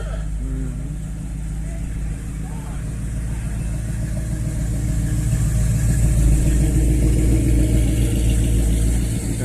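Classic cars and hot rods rumble and rev nearby at a Memorial Day car show, growing louder and then easing as vehicles pull away, with voices faintly in the background.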